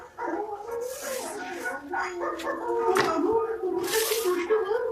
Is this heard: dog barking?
yes